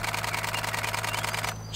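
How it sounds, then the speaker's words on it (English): A Canon 7D camera shutter firing in a rapid burst of about ten frames a second, an evenly spaced run of close, crisp clicks that stops abruptly. "I'm getting about 10 frames a second out of the 7D"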